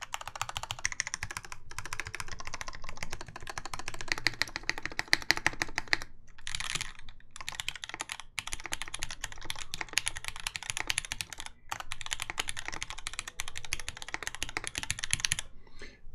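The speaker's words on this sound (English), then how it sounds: "I'm doing something that sounds like I'm typing whatever you guys type into chat" Steady, rapid keystrokes on a mechanical keyboard fitted with Alpaca switches, a TGR 910SE build, clacking close and continuous with a few brief pauses.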